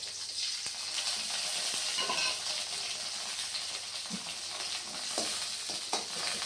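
Green chili and tomato sauté in a pan, giving a bright steady sizzle close by with occasional soft stirring knocks and no speech.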